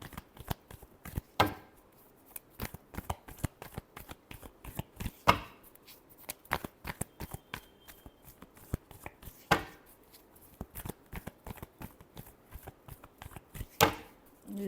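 Playing cards are shuffled close up in a series of sharp riffles and slaps, with louder bursts every few seconds between lighter flicks and no speech.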